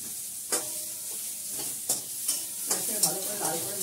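Onions and cumin seeds fry for a dal tempering with a steady close sizzle. Spoon scrapes and clacks against the pan land every half second or so, and nobody speaks.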